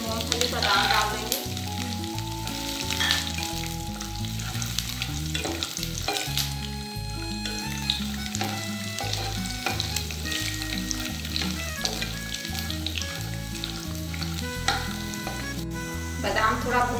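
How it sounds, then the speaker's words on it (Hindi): Green chilli, ginger, peanuts and almonds fry in a pan with a loud, constant sizzle and repeated stirring scrapes, under steady background music. "थोड़ा, कटा हुआ हरा मिर्च डालेंगे इसमें, अदरक डालेंगे, मूंगफली बादाम डालेंगे"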